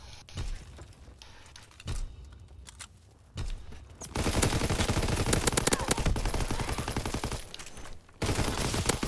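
Bursts of automatic gunfire in the Call of Duty: WWII video game, with quieter stretches and short clusters of shots early, then a long, loud, continuous rattle of rapid fire.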